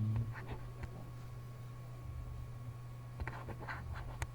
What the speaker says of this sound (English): let me write it down